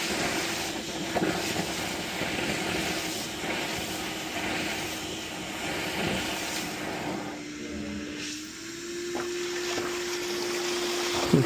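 Air blown through an inground swimming pool's jet line during winterizing pushes water out, a steady rushing, bubbling roar with a sustained hum, close and continuous.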